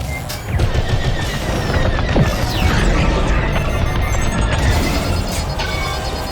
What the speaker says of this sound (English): They've disabled my ship. All systems down. Those were iron missiles.